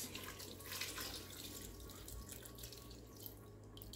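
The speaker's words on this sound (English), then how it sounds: "Add water, cover it" Water pours into a cooking pot of Nigerian yam pepper soup, a steady running splash with faint clinks and a low background hum, no voices.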